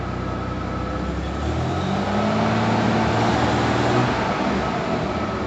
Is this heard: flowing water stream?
no